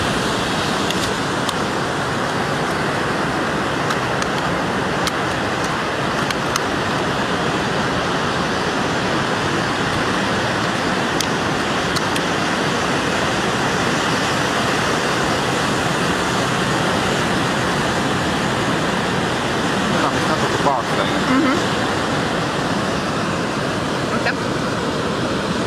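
Steady roar of Pacific Ocean waves breaking on a busy, sunny beach, a dense continuous wash of surf that stays loud throughout, with a voice talking faintly underneath.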